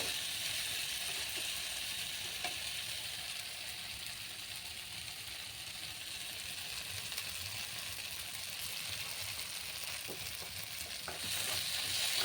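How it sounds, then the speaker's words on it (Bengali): Rohu fish belly pieces fry with spices and a splash of water in a pan while being stirred, a soft, steady sizzle with faint scraping and occasional clicks of the spoon, quiet and without talk. "নাড়াচাড়া দিয়ে দিচ্ছি"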